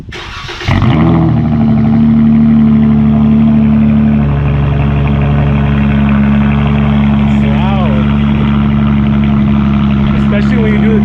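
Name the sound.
car engine running with loud aftermarket exhaust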